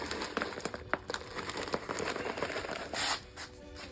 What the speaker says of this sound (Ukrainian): пакетик розсипаю